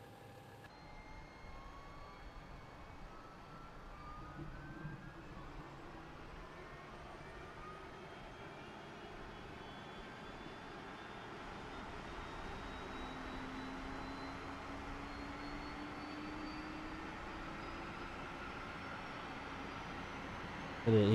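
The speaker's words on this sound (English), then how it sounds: "I don't know if you guys can hear the plane" A ToLiss A321 IAE airliner sits in X-Plane 11 with a steady, broad engine drone whose pitch slowly climbs as the spool-up builds, holding at constant loudness throughout with no voices.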